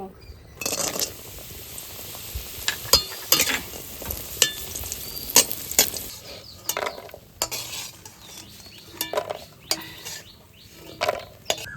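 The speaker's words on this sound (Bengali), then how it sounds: "এই বড়িটা এখন আমি ভেজে নেব" Lentil dumplings (bori) fry in oil in a home kitchen while a utensil stirs and scrapes. The oil sizzles steadily and the scrapes land as irregular clattering hits, with a faint voice briefly in the background.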